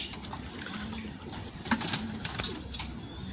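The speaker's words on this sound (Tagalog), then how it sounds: "bumabulosok si red bar" A racing pigeon, a red bar, drops in from a training race in Candelaria, Quezon, with brief wing flaps and soft bird calls over faint outdoor background.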